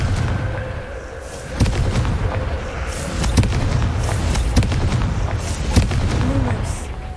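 Confringo fire spell explosions in Hogwarts Legacy, a handful of heavy booming blasts spaced a second or so apart over a continuous rumbling game background.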